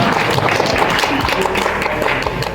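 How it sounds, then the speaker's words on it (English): An audience breaks into a round of applause at a traditional Appalachian gathering, dense steady clapping from a crowd throughout, fairly close and loud with no clear speech. "one more time, round of applause."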